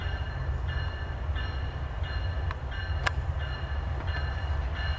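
Norfolk Southern locomotive NS 8114 rumbles steadily as it approaches, a low continuous drone of engine and rails with faint sharp clanks, no horn yet and no voices.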